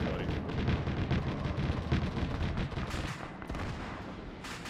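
Tank and infantry fire in an Arma 3 World War II battle: dense rumbling gunfire and heavy booms rolling continuously, loud and close, with a few sharper reports near the end and no clear talk.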